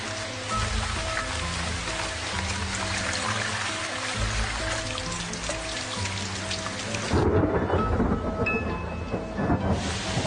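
A heavy African thunderstorm with steady loud rain pouring down and rumbling thunder, the downpour swelling into a louder crash near the end, with no voices.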